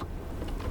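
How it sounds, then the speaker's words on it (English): The power tilt and telescoping steering column motor of a 2016 Infiniti Q50 3.0t Red Sport 400 whirs briefly and softly in the cabin, one short, steady electric hum. "It's a power tilt and telescoping steering wheel."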